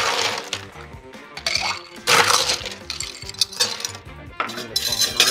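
Brandy is stirred with ice cubes in a Boston glass, giving a steady jumble of clinking, rattling ice and glassy knocks at close range, with no talk.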